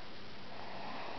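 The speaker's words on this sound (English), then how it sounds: "she's breathing pretty intense, and there's some interesting moaning noises coming from her mouth" A sleeping woman breathes heavily with a steady, rough, airy rush that stays close and fills the whole moment, sounding almost like soft snoring.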